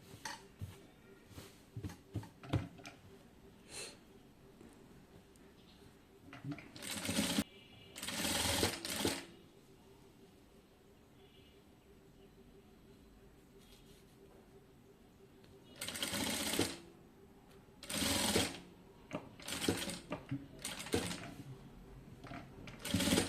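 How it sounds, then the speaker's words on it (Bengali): Sewing machine stitching the side of a designer neckline on a garment, running in several separate bursts of rapid, close, loud whirring between quieter pauses filled with small handling noises. "তো এখন আমি এই পাশটাকে সেলাই করে নেব।"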